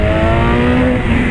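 A motorcycle engine, ridden by someone practicing wheelies on a naked bike, roars at sustained high revs with a steady, loud drone throughout.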